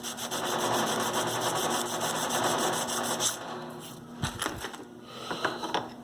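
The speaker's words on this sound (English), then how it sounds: "And hit it with slightly finer grade of emery." Finer grade emery rubs back and forth on a metal adjustable parallel held in a vise, a steady close scratching for about three seconds, followed by a few clicks and handling noises.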